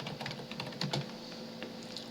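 Rapid, uneven keystrokes on a computer keyboard, typing out a short phrase in a steady close-up burst with a slight pause midway.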